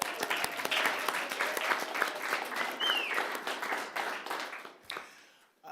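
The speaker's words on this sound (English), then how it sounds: "Can you all clap?" An audience at a city council work session applauds in a steady wash of many hands clapping that fades out near the end.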